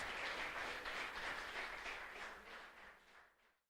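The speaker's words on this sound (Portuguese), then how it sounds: "Uma salva de palmas ao Senhor Jesus." A church congregation applauds for Jesus, a dense, steady patter of many hands heard from a distance that fades out toward the end.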